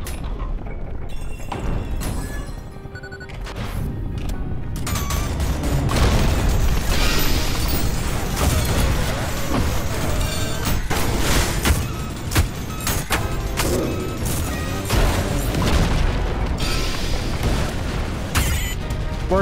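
Explosions in a fast action video game boom and burst in dense, repeated blasts mixed with other loud game sounds, continuous and close with no talking.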